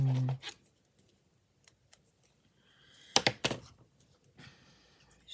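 Scissors handled at an embroidery and sewing table: scattered faint clicks and light taps, then a louder cluster of sharp metallic snips and clatter near the middle, in a quiet room.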